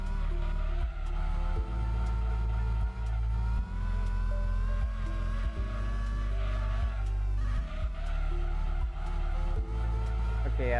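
A car in a racing video game revs its engine hard, with a continuous droning roar, repeated gear shifts and tires squealing in skids, loud and steady throughout.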